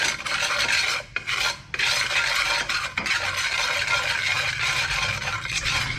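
Sugar stirred in a pan as it caramelizes for an Asian stewed egg dish, a steady close rasping scrape with brief pauses and no talk.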